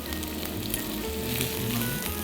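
Chopped onions and garlic sweat in olive oil in a frying pan, giving a dense, continuous close sizzle with no pauses.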